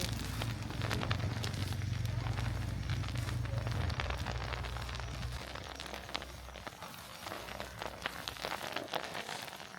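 Firewood blazing under a wok at a tea-roasting spot in an old ethnic-minority village on Jingmai Mountain, Yunnan: soft, irregular crackles and pops over a low hum that fades partway, with no voices.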